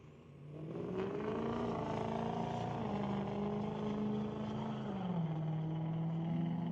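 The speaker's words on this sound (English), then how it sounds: "Diesel pickup trying to chase down the Pontiac" A diesel pickup racing a Pontiac down a drag strip, a loud sustained engine roar with a steady droning pitch that shifts as the vehicles accelerate, no talking over it.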